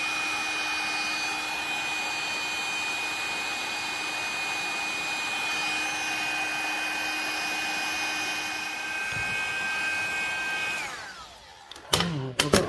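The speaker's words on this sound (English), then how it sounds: "I think we'll get some hot air gun action on it" A hot air gun roars loudly and steadily at a seized stud on a brake caliper in a workshop, running for about eleven seconds before cutting off, followed by a few clunks and knocks.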